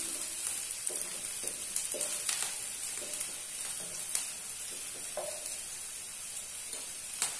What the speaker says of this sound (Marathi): कांद्यानंतर मी आता कढीपत्ता टाकते.